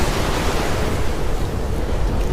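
Steady, continuous roar of sea waves washing against the shore, with broad wind-like surf noise holding even and loud throughout, no voices.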